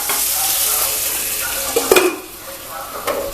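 Stuffed ivy gourd being stirred and sautéed in a heavy-bottomed pan, a steady low sizzle with a few scraping spoon strokes near the middle and end, close by with no talk.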